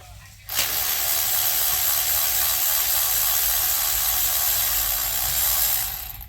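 A ratchet working on the transmission pan bolts of a Mercedes 9G-Tronic nine-speed automatic, heard close and loud as a steady, dense mechanical buzz that runs almost unbroken for several seconds before stopping.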